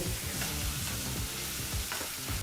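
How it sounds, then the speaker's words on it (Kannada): Onions stir-fried on high flame for fried rice, hissing steadily in the pan while a spatula scrapes and tosses them in quick, repeated strokes. No one speaks. "ಎರಡು ನಿಮಿಷ ಈರುಳ್ಳಿನ ಬಹಳ ಚೆನ್ನಾಗಿ ಎಡೆ ಬಿಡದೆ ಈ ರೀತಿ ಮಿಕ್ಸ್ ಮಾಡ್ತಾನೆ ಫ್ರೈ ಮಾಡಾಯಿತು"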